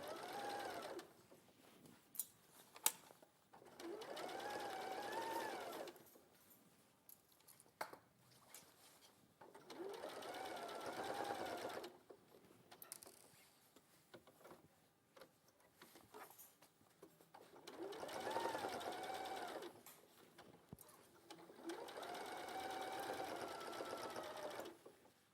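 A sewing machine runs in several long stitching bursts while a neckline is sewn, each steady whirring run separated by short pauses with faint handling sounds.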